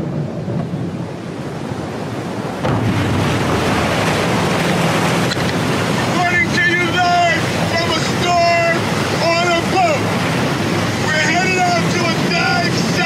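A boat heading out through a storm at sea carries a steady roar of wind, waves and rumbling thunder, with a brighter tonal layer joining partway through and holding to the end.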